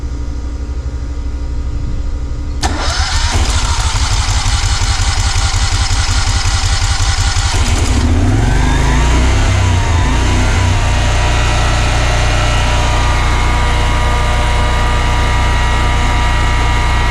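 Westinghouse 20000-watt portable generator engine cranks, fires and catches, then settles into a loud, steady running drone with a heavy low rumble and continuous mechanical hum.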